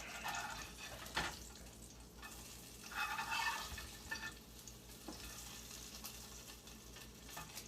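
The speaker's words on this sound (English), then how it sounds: "All that grease bubbling on the top surface." Bacon grease bubbling and sizzling in a pan over medium heat, a steady crackling fry with occasional louder pops and stirring scrapes, close and fairly quiet with no talking.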